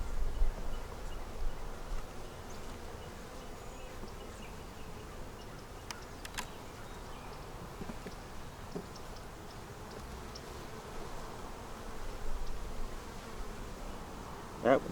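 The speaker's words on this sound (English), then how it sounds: "Got a few bees, got some heat." Honey bees inside a hive, a steady low buzzing drone that goes on throughout with faint ticks and handling noises, no talking.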